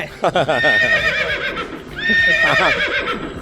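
A horse on Thai Koh Pred island in Chanthaburi whinnies loudly and close in two long, wavering neighs, with some clip-clop-like thumps at the start.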